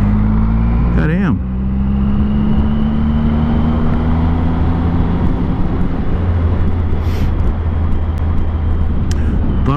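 A Can-Am off-road vehicle drives with a loud, steady engine drone whose pitch climbs briefly under throttle, then holds at an even roar with wind rush throughout.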